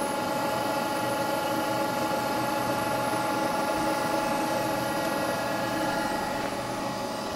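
Surface grinding machine running with an odd, abnormal noise, giving a steady, loud, continuous mechanical whine and hum with a broad, unchanging drone that never lets up.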